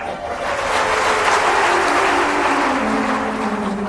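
An audience at an evening ashram satsang applauds in a steady, dense wash of clapping that holds at an even level for several seconds, with a faint tonal hum running underneath.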